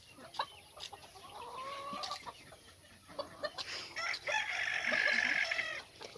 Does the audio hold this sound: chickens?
yes